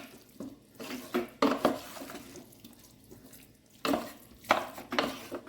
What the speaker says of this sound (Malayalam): എന്നിട്ട് നല്ല പച്ചവെള്ളം ഒരു ശക്കല ഒഴിക്കണം.